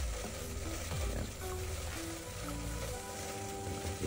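Pork sizzles and crackles in hot cooking oil in a pan for a boiled pork soup, a steady soft frying hiss with faint pops, quiet and close, no voices.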